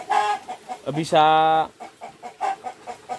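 Free-range village chickens kept above a fish pond cluck close by in short repeated bursts, with one louder drawn-out squawk in the middle, while someone speaks.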